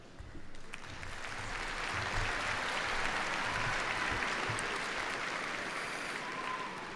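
A large crowd at a university commencement ceremony for liberal arts, sciences and engineering graduates claps warmly and steadily, a thick, even roar of applause filling the hall without pause.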